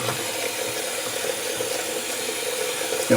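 Tap water runs steadily into a bathroom sink being refilled between shaving passes, a continuous close rushing splash with no talk.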